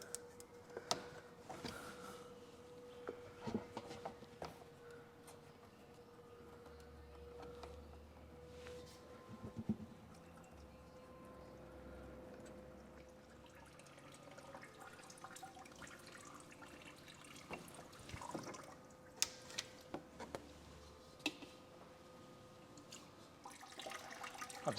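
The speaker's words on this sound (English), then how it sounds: "Just going to drain the coolant out here" Coolant draining from a Chevrolet Cruze 1.4 engine through a short pipe, a quiet continuous trickle of liquid with occasional drips and clunks, close by and faint.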